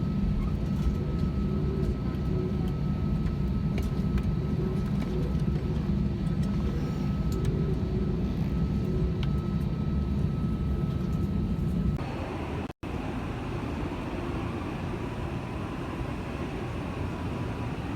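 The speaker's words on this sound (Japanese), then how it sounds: "関西空港へ着陸。" Airliner landing at Kansai Airport, heard from inside the cabin: a loud, steady engine and airflow roar that shifts abruptly to a rougher rumble near the end, with no talking.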